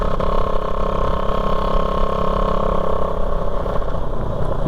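Rapido Raider 150 motorcycle with a detached muffler joint, its engine running in a loud, raw, steady drone with a buzzy rasp, close up and continuous, as if riding along at constant speed.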